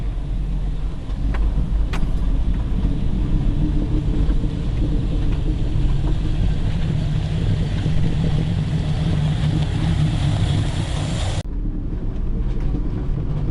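A small Jeep grinds along the narrow Skippers Canyon 4WD track in New Zealand, its steady engine rumble mixed with wind buffeting, loud and unbroken until it cuts off sharply near the end.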